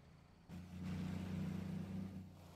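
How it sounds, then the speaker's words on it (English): A vehicle engine runs through its exhaust, starting abruptly and swelling to a steady low drone with a mild rise in revs before easing off, close and alone with no talk. "Put different exhausts, they sound different."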